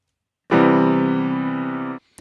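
One synthesized seventh chord, a triad with an added B above G played as MIDI notes, rings steadily for about a second and a half and then cuts off, followed by a brief click.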